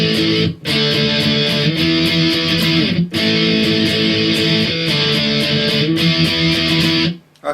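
Distorted electric guitar plays the chorus of a song in steady, loud downstroked power chords, repeating the pattern with two brief gaps and ringing to a stop near the end.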